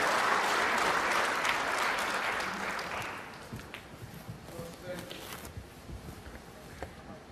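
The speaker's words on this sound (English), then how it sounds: "the applause from the other table didn't take O'Sullivan off" Applause rises from the neighbouring table at a snooker World Grand Prix match, a crowd clapping for about three seconds before fading into a quieter hall with scattered claps.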